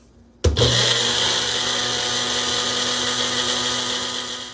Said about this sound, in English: after you screw on the top, you want to puree it until it's smooth